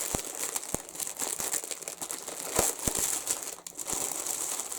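Crinkling plastic packaging around skeins of ice yarn, sharp crackles and rustles coming in irregular bursts close by, with no talk.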